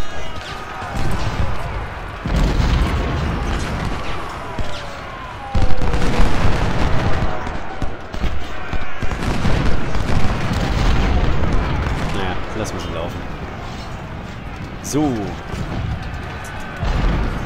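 Cannon fire in the Civil War strategy game Ultimate General: Civil War, repeated deep booms and rumbling blasts under someone speaking German over the gameplay.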